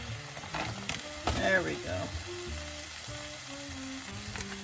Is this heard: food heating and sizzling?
yes